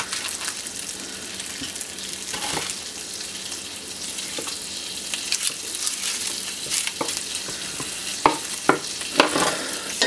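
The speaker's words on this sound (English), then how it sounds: "I'm not sure if you can hear the sizzle of the bacon" Bacon starting to cook in a frying pan gives a steady low sizzle with scattered crackles and pops, a few sharper spatters near the end, and no talking.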